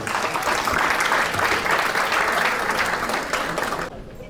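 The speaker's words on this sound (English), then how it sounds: "Let's welcome her with a very warm round of applause." A crowd gives a warm round of applause to welcome a speaker at an ISKCON Naperville festival event, dense and loud throughout, then dropping off sharply near the end.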